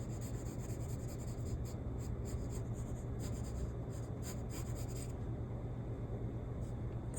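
A pen or pencil scratches and rubs steadily across paper close by, faint continuous strokes with short pauses, set against a low constant background hum.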